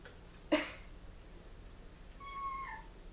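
A short, sharp thump as a cat fails to jump onto someone, followed after a pause by a faint, thin meow from the cat nearby, in an otherwise quiet room.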